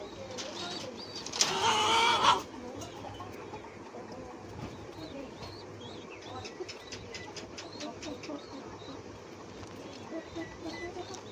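A pair of king pigeons that have just laid an egg give a short burst of cooing, close and clear, followed by a long stretch of faint background noise.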